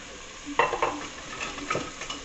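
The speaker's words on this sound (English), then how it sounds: "Take a spoon and stir that around." A spoon stirs ham with bouillon, sazón and jamón sautéing in a pot: a sharp metal clack, then a few scraping strokes over a soft, faint sizzle.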